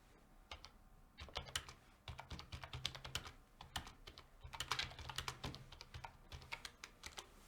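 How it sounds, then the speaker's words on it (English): Quiet, brisk typing on a computer keyboard, irregular clusters of light key clicks with short pauses and no speech, close and soft throughout. "I'll do a bit of typing."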